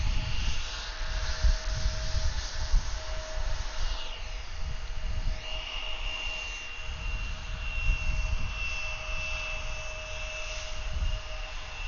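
A CRJ regional jet at Atlanta airport produces a steady, fairly loud jet engine roar with a high whine, heard from a moderate distance outdoors with no talk.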